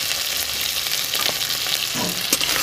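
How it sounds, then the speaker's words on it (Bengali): Black cumin seeds crackling in hot oil for a tempering with onion, a loud continuous hiss that stays even throughout with a few faint stirring knocks. "কালো জিরে ফোড়ন দিয়ে দিলাম"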